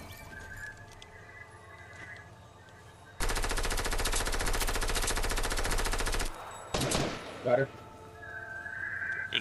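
SMG fire in the video game Fortnite: a loud, continuous rapid burst lasting about three seconds, followed by a shorter burst and a few scattered shots over quieter game ambience.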